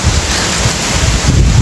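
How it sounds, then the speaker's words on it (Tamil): Strong, steady wind roars during a Kerala rainstorm, a loud continuous rush of wind buffeting the microphone with no voices. "காற்று சுத்தமாக குறையவே மாட்டேங்குது. பயங்கர காற்று, பேய் காற்று."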